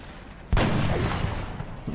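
A gunshot in the video game XCOM Long War: one sudden loud blast that rings out into a sustained, rumbling decay, with nothing before it but quiet background.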